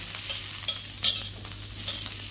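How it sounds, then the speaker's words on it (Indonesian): Shallots and garlic frying in cooking oil for village-style fried rice, a steady close sizzle with scraping stirs and a few sharper clinks, no voices. "Saya beri minyak goreng lagi, lalu kita tumis aja bawang merah dan bawang putihnya."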